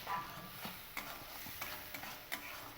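Masala of onion and ginger stirred and frying in a pan for a Bengali prawn kalia, a faint steady sizzle with soft scraping strokes of a spoon roughly every half second, no talking.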